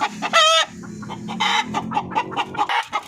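Darag native chickens cluck and squawk close by, with a loud rising call near the start followed by a string of short, uneven clucks.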